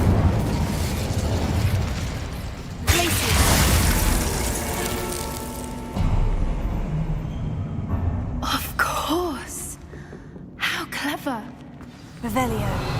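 Fire spell Incendio cast in Hogwarts Legacy: a loud burst with a roaring, crackling whoosh of flame, followed by further spell effects, with voices speaking over parts of it.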